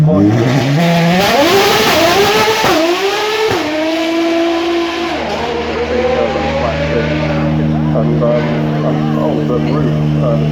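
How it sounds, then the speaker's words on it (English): A supercar with a flat-six engine accelerates hard on the Goodwood Festival of Speed hill run, its loud rising engine note climbing through gears before settling into a steadier drone, with a commentator talking over it. "Amazing, with a flat six engine producing a lot of power."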